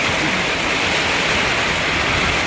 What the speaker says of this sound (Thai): ฝนตกหนักขนาดครับพี่น้อง